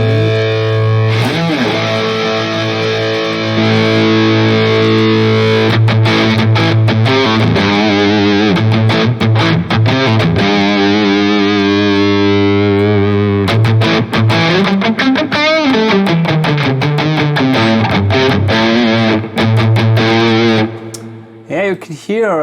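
Heavily distorted electric guitar played through an Axe-Fx III modelling a Soldano amp, loud sustained chords and choppy palm-muted riffs with abrupt stops, filling the whole stretch.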